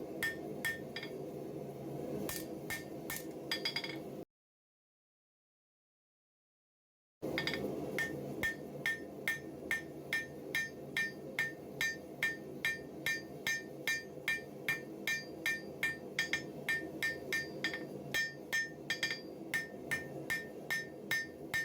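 Hammer striking hot steel while beveling a Bowie knife forged from a file, steady repeated ringing blows close up, with a few seconds of silence before the rhythmic hammering resumes.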